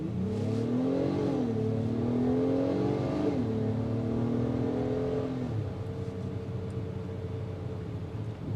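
A 2026 Acura MDX A-Spec SUV accelerates hard in sport mode, its engine note climbing through two upshifts before easing off, steady and close from inside the cabin with no talking.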